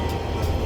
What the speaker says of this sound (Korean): 지하철.